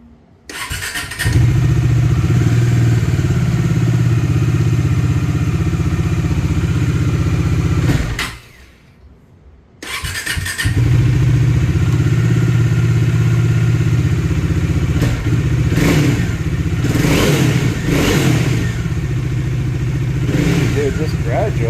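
A motorcycle with an intermittent engine fault, on a rainy day, starts up and idles with a deep, steady rumble. It drops out briefly partway through, then catches again, with uneven revving bursts toward the end.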